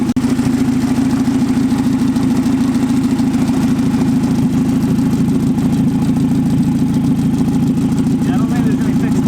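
Honda Del Sol idling with a failed exhaust manifold, a loud, constant, rough engine drone with a raspy leaking-exhaust edge, close up and steady for the whole stretch.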